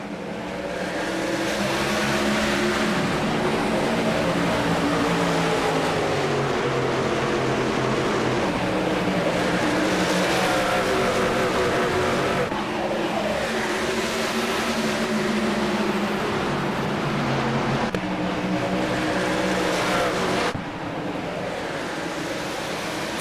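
A pack of race trucks roaring around Rockingham in a sim racing series: a dense, continuous engine drone with shifting tones from many vehicles, loud and steady throughout, with no talking.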